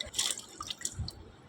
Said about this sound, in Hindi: ओकर बाद ना ऐसे रगड़ रगड़ के धो लेना है।